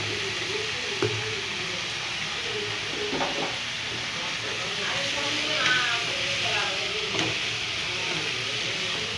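Tomatoes sautéing in a pan with salt, a steady soft sizzle and hiss throughout, with faint stirring scrapes and clinks now and then.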